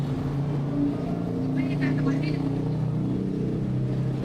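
A motorized tricycle rumbles past on a Philippine street near Boracay, a steady low engine drone with faint higher revving, while a person talks over it.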